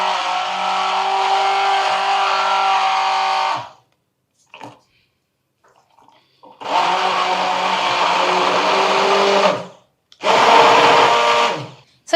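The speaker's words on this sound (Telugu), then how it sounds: "ఇప్పుడు బ్లెండ్ చేసేస్తున్నారా ఇది?" A hand blender whirs through a hair pack mixture in three loud, steady bursts of motor drone, each cut off sharply, with quiet pauses and faint handling sounds between them.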